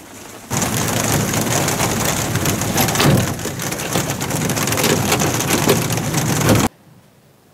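Hailstones pound down in a hailstorm, a loud, dense, continuous clatter on surfaces that carries on unbroken for several seconds before stopping suddenly.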